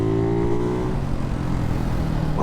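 A Ducati Hypermotard 698 Mono single-cylinder motorcycle with a Termignoni exhaust drones close by with a steady, throaty engine note that eases off toward the end.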